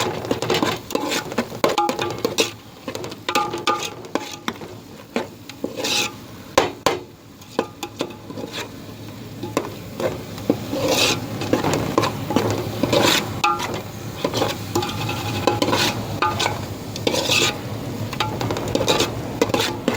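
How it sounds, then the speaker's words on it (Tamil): A spoon scrapes and clatters repeatedly around a pan of South Indian fish curry masala, with a light sizzle of frying beneath the irregular stirring knocks. "நல்லா போட்டு நல்லா கலரி விடுங்க."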